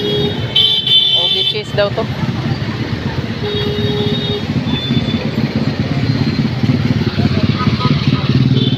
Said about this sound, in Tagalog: Ayan, traffic dito sa eskina